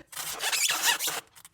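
Styrofoam squeaking while a 1/8-scale Ferrari 250 GTO model car body is being worked on: one close, fairly quiet squeal lasting about a second, with no talking.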